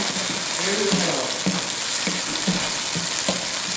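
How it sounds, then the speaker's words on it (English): Garlic fries in a pan with a constant loud sizzle while a utensil stirs it, leaving regular knocks and scrapes about every half second, close up and with no talking. "Try to move it around constantly so our garlic doesn't burn."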